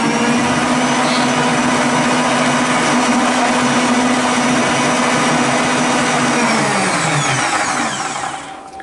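Electric whisk beating egg whites at a boosted speed, a loud, steady high motor whine with a sustained hum that holds for several seconds, then drops in pitch and fades as the whisk slows at the end.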